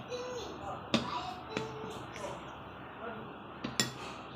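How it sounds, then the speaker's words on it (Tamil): A spoon stirs semolina cake batter in a bowl, sounding as soft wet swirling punctuated by a few sharp clinks of metal against the bowl, faint and close. "கொஞ்சம் கொஞ்சமாக அப்படி ஊற்றி கிண்டிகிட்டு இருந்தோம்னா நல்ல தோசை மாவு பருவத்துக்கு நல்லா கிண்டிக்கிட்டே இருக்கணும்"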